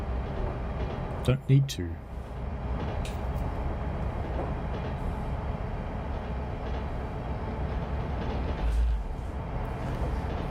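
Train in Train Simulator Classic on a San Francisco to Sacramento interurban route slowing toward a stop, a steady low rumble of rolling wheels and motor with a few clanks early on, and someone speaking briefly.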